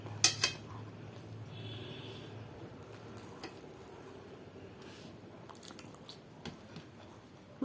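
Someone eating a meal of fried dishes such as banana peel fry, fried parshe fish and prawn malaikari, with faint close chewing and soft biting, a few small clinks of dishes early on, and a low background hum.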